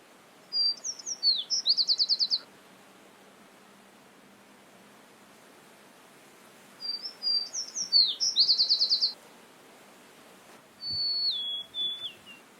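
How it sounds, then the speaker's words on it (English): Near Salmon Lake outside Nome, Alaska, an American tree sparrow sings two clear phrases of sweet notes ending in fast trills, then gives a brief descending call, all close and alone over faint background noise. "The lakeside habitat proved good for passerines, including American tree sparrow."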